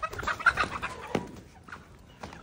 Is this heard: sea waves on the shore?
no